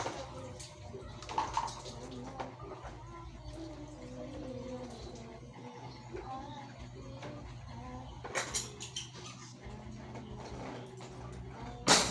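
Water runs steadily from a tap into a sink as it is being cleaned, a continuous close splashing with occasional clatters and scrapes, and someone speaking over it at times.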